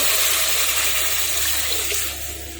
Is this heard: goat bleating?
no